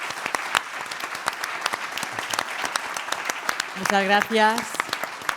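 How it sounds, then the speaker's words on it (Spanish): Applause for the panel speakers at the CIBITEC22 energy-transition digitalization panel, a lively clapping crowd throughout, with a brief spoken thank-you heard over the clapping near the end. "un aplauso para todos los ponentes"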